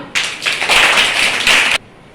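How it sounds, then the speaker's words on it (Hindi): Classroom audience clapping for a student during a school event, a loud burst of many hands lasting about a second and a half, then stopping abruptly. "तालियां"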